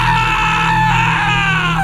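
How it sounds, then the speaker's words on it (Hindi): A man gives a loud, sustained scream of terror, a harsh, strained wail with wavering pitch that fills the whole moment. "एक जोर की चीख के साथ"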